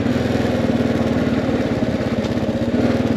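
Kawasaki KLR 650 single-cylinder motorcycle running steadily on a road with a loud, close, even thumping drone and no pauses.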